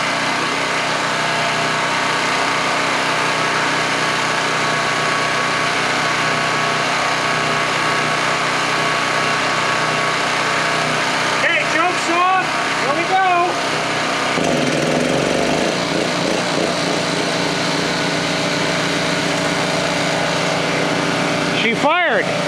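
A small-engine generator is started after winter, its motor running at a steady high-pitched drone, then bogging and sputtering with rough pulses partway through before running on, close and loud under a speaking voice.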